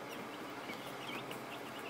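Giant Cornish game hens and small layer chicks cluck and chirp softly together in a brooder, a steady, close chatter with no talking.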